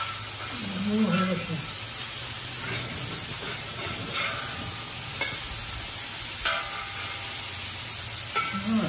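Wagyu burgers sizzle in rendered fat in a discada, a steady close crackling hiss with occasional sharper pops and spatters, continuous for the whole stretch.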